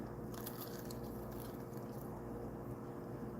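Fried chicken wings are bitten and chewed close to the microphone, giving faint crisp crunches over a steady background hiss.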